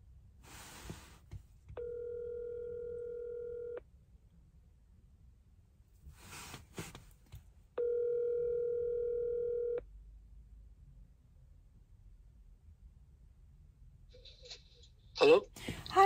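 A telephone call is placed: a few soft clicks, then two long, even ringback tones separated by a pause, quiet and clear with no talk over them, ending with faint handling noise.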